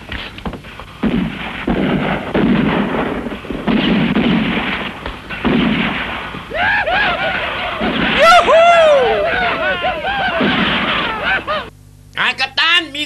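Gunfire in a classic Django-style western film dubbed in Thai, loud bursts of shots mixed in with shouting voices and a busy, dense soundtrack.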